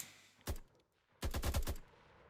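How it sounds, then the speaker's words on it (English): An AK rifle fires in a COD Zombies-style game built in Unreal Engine 5. One loud, punchy shot is followed after a pause by a rapid burst of about five shots, each with a short ringing tail. "Let's take, for example, this AK and turn the power on."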